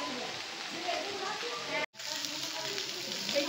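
Hilsa fish heads fry in hot oil in a Bengali kitchen, giving a steady crackling sizzle broken by a brief dropout midway, with people talking over the cooking.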